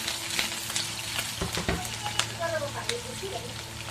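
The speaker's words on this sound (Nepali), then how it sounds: "लसुन चप गरेको एड गर्छु म अलिअलि लसुन फ्राई हुने बित्तिकै हामी यसमा हाल्छौँ" Chopped garlic fries in oil in a pan, a dense continuous sizzle with sharp crackles and spits, close and loud throughout.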